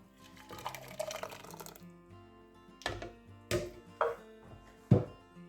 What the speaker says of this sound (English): so now we'll just transfer our soup into our pan